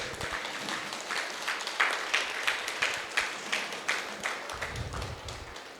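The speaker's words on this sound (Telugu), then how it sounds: "మన జగద్గురు బ్రహ్మర్షి పత్రిజీ కోసం గట్టి క్లాప్స్ కొడదాం" Audience at a meditation music event applauds Brahmarshi Patriji with steady, dense clapping that runs throughout, with a few louder individual claps standing out from the crowd.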